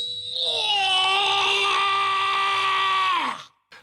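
A man in a TV show lets out one long, loud, strained scream after exposure to vacuum, sustained for about three seconds before breaking off abruptly.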